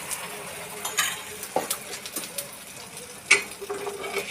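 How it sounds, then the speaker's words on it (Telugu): Egg omelette batter poured into heated oil in a pan, a soft steady sizzle with scattered clinks and stirring clicks, heard up close without speech. "ఆయిల్ అయితే కొంచెం హీట్ అయిన తర్వాత ఆమ్లెట్ వేసుకోవాలండి"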